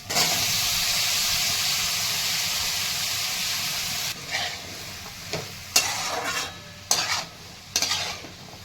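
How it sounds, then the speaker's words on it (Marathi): Potato pieces with green chilli, ginger and onion frying in oil without water make a loud continuous sizzle up close, then quieter frying broken by several sharp spatula scrapes and stirs. "तर पाणी न टाकता छान परतून घ्यायचं शिजून घ्यायचं हे बटाटा"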